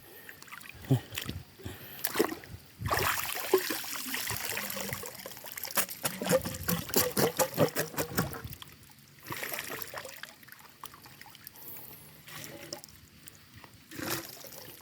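Floodwater rushes and trickles through a swollen stream where eel traps are set, with a steady watery wash and splashy bursts; people talk now and then over the flow.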